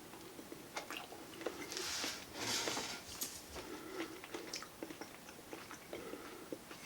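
Someone chews baked sweet Vidalia onion up close, soft wet mouth sounds and squishy bites in an irregular rhythm, fairly quiet with no talking.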